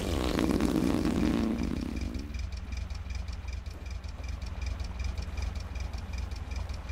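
In The Long Drive video game, a car engine cranks with a rough, loud starter burst, then settles into a steady low rhythmic idle with a faint regular knocking pulse, alone without talk.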